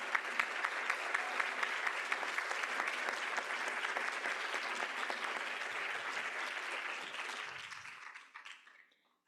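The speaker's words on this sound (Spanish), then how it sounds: "Les pido amablemente un aplauso para nuestros moderadores" Audience applause for the moderators at a Nuevo León Senate election debate, a steady sustained crowd clapping that continues for several seconds, then fades and trails off near the end.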